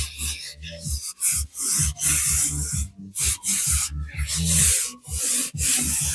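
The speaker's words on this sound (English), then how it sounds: "I could try sanding this down." Repeated rough rubbing strokes of sandpaper on a canvas, steady back-and-forth rhythm with brief pauses between passes, close and fairly loud.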